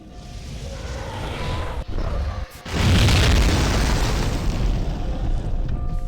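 Explosions while destroying a castle in Dragonflight: a rumbling boom fills the scene, briefly cuts out, then a bigger sustained blast roars loud and continuous to the end.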